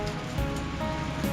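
Steady rain falling outdoors, a dense broadband hiss of drops on surfaces with no voices, holding at an even level throughout.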